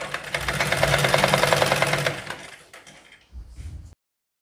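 A sewing machine stitches the folded waistband of a lined palazzo, running in a fast, loud, steady rattle for about two seconds before slowing and stopping, followed by a few faint handling sounds.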